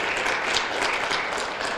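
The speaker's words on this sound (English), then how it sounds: "Let's give parents across the room a a round of applause." An audience at an education-themed talk show breaks into steady, fairly close applause, dense clapping with no pauses from start to finish.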